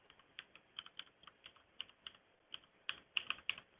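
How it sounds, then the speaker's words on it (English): Password being typed on a computer keyboard, a quiet run of light key clicks in an uneven rhythm that quickens into a closer cluster near the end, with no talking. "And then I'm going to go ahead and put in the password."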